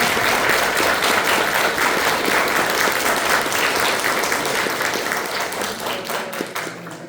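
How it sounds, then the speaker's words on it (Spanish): Sustained audience applause for a guest lecturer at a nanoscience anniversary event, dense and steady clapping from a sizeable crowd that fades slightly toward the end, with no talking over it. "nuevamente le damos un aplauso,"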